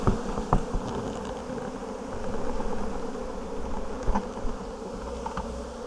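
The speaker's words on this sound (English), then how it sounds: "Let's get these bees and we will gently shake them" A swarm of honeybees being shaken into a bucket gives a dense, steady buzzing hum close by, with a few sharp knocks and bumps from the handling.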